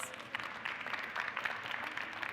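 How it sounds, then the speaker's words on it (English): At a school gathering, an audience applauds a student with a soft, continuous patter of many hands clapping, heard at a distance and fairly quiet throughout. "Let's give him a round of applause."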